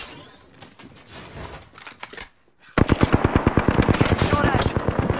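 Apex Legends gunfight: after a stretch of quieter, scattered noise, a loud, rapid burst of automatic weapon fire starts and keeps going with a steady, fast rhythm until the end.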